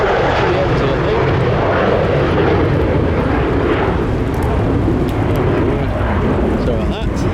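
A plane taking off at London Stansted Airport on a windy day, its jet engines a loud, broad, continuous roar that fills the whole stretch with steady power, heard from nearby with no pauses.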